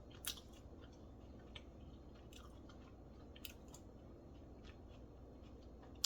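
Crisp, quiet crunching bites of a Taco Bell crispy chicken burrito, a few sharp crackles spread over a low steady background with no talking.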